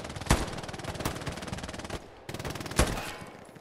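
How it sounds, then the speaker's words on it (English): Machine gun fire in the Hell Let Loose game, a dense rapid rattle of shots with a couple of heavier bangs, broken by a brief pause before the burst resumes. "machine gun."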